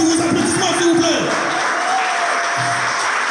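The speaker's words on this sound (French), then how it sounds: "Sous vos applaudissements, mesdames, messieurs, Tatiana Nyamayoua, sous vos applaudissements, s'il vous plaît." Sustained audience applause fills a ceremony hall, a dense, steady roar of many hands clapping with faint cheers and a voice rising over it.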